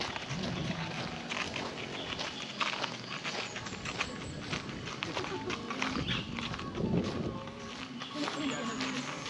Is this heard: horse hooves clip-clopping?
yes